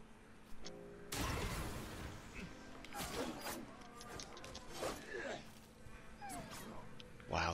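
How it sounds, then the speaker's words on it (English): Dogs whimpering, yipping and barking in the video game Ghost of Tsushima, several yelps and cries over game combat noise and movement, with a person talking over them. "Dog or something."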